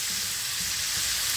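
Shrimps sizzle steadily in a hot pan while being stirred, a dense, close, continuous frying hiss with no voices.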